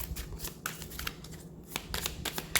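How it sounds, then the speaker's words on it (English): A deck of tarot cards is shuffled by hand at close range, with rapid irregular riffling and flicking bursts that keep going throughout. "as I'm shuffling this deck"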